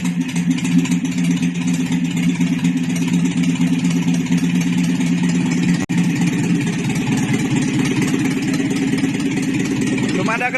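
A Toyota Corolla 3K engine idles with no exhaust fitted, giving a loud, raw, steady mechanical drone that continues throughout, with a brief dropout midway and a slight change in tone near the end.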